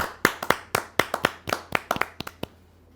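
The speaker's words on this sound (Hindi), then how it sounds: "जोरदार ताली के साथ हम स्वागत करें" Hands clap at a Hindi poetry gathering to welcome a poet: a dozen or so sharp, close claps in a loose, uneven rhythm that stop abruptly, leaving quiet.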